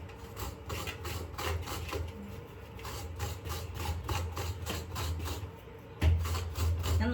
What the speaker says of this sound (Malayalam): പെട്ടെന്ന് ഇങ്ങനെ തേങ്ങ ചിരണ്ടാൻ പറ്റും